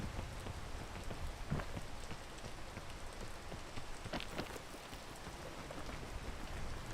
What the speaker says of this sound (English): This is the rain that I was talking about. Makes it a lot more difficult to climb up.